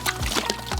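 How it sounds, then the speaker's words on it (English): Cold refrigerator water dumped all at once into a pottery clay mix, giving a short, close splashing pour with a few gulping surges over under a second. "I am just gonna dump the water all in at once"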